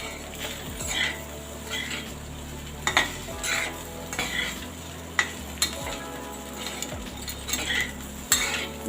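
Fried okra, potato and onion being stirred together in a pan, with a spoon scraping in slow sweeps roughly once a second over a steady, low sizzle, close and moderately loud.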